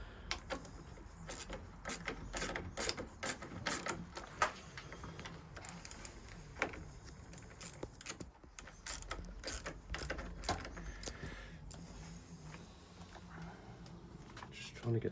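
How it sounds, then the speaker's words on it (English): Ratchet wrench clicking as it undoes a bolt close to the fuel tank on a Benelli TRK 702 motorcycle, rapid uneven clicks and taps, moderately faint, with a voice talking over parts of it. "Just trying to get that bolt out without. It's so close to your tank, it was unreal."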